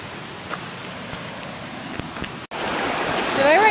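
Creek water flows through a ravine along Dry Creek Trail near Boise, Idaho, a steady soft rush that grows louder after a brief cut, with a thin whistling tone near the end.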